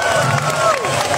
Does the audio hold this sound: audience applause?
yes